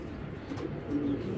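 Beside a very large racing pigeon at a pigeon sale, faint low cooing murmurs quietly and continuously, with slight swells in the rolling sound.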